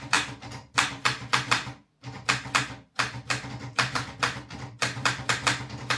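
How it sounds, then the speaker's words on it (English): Close, loud typing on an Olivetti Studio 45 mechanical typewriter, rhythmic clusters of sharp metallic key strikes separated by brief pauses. "I've had this incredible Olivetti Studio 45 typewriter for ages now"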